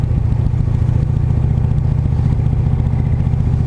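A Dodge Dart drag car's 408 cubic inch V8, built from a 360, holds a deep, steady rumble at a constant throb throughout, loud and close, with no talking.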